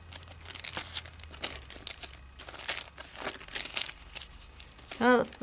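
A plastic treat bag crinkles and rustles close by as it is handled and slipped into an embossing folder, soft crackling throughout with someone talking briefly near the end.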